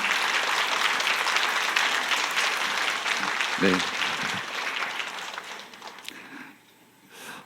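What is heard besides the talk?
church congregation applause for teachers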